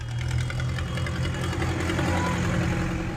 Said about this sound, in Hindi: अमरोहा में 50 ट्रैक्टरों का एक और जत्था दिल्ली के लिए रवाना हो गया है।